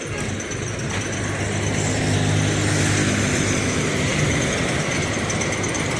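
An Avante H8 coach bus of the Rosalia Indah fleet runs with a steady, low engine drone and broad road and cabin noise, continuous throughout with no talk.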